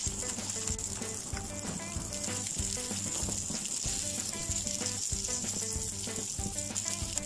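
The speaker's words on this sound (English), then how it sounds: "Grill at the skin side first." Red snapper fillet grilling skin side down, giving a steady close sizzle and crackle with dense popping fat throughout and occasional soft knocks of a pan or utensil.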